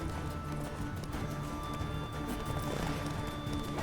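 Rapid hoofbeats of a horse galloping in The Witcher 3 video game, a steady clattering rhythm layered over a constant bed of game ambience and music, fairly loud throughout.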